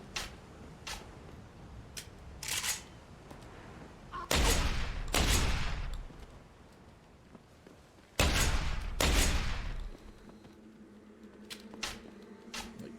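Shotgun blasts in the video game Deus Ex: Human Revolution, a few loud booming shots in distinct pairs with ringing tails, separated by quieter gaps with faint clicks and handling noise.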